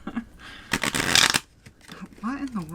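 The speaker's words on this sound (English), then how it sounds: "That was a terrible shuffle." A deck of cards riffle-shuffled in one quick burst of rapid flutter, close by, with a person speaking just before and after.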